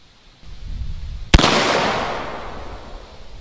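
A Zeus 12 gauge shotgun loaded with Federal Podium 1 ounce shot fires a single sharp, loud blast outdoors, followed by a long fading echo over low background noise.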